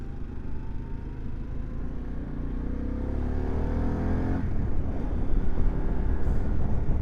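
A 2025 Harley CVO Pan America in sport mode pulls hard through the gears, its engine rising in pitch and then shifting to climb again, loud and close with steady wind rush.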